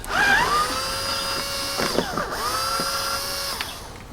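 A power tool whirs in several short bursts with rising and falling pitch while loosening screws on a Toyota Land Cruiser 100 Series OEM roof rack, close and fairly loud, with clicks between runs.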